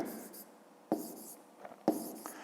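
A pen writes numbers on paper in a quiet room, with soft scratching strokes and a couple of sharper taps as digits are marked, close and faint.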